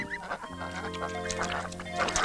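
Ducks quack in a chorus on a farmyard by a river, a busy overlapping mix of calls at close range, with a voice speaking over them.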